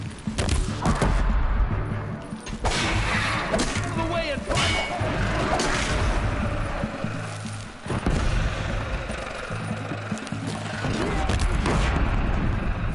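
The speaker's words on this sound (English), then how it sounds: "We need some grenades in here. What was our most dangerous grenade launcher?" A grenade launcher in Horizon Zero Dawn fires repeatedly amid loud blasts, crashes and impacts from close by, with someone talking over the chaotic combat.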